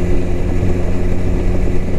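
A 2009 Honda Rebel 250 motorcycle engine runs steadily while riding, producing a continuous low droning hum with wind rush, close and fairly loud throughout.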